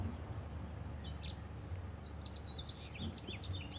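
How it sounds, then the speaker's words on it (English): Faint birds chirp in short scattered bursts over a low background hum, a few thin tweets toward the end. "Hear the birds?"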